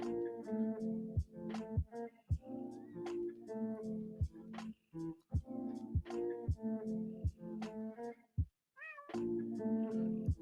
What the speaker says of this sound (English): There goes the cat in the back.